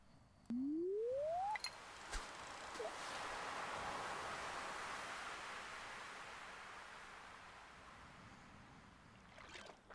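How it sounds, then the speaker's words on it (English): A broad, steady wash of water from the video game Stardew Valley swells and fades, with a rising electronic tone and a few clicks near the start. "Sound of the water is going to put me to sleep, though"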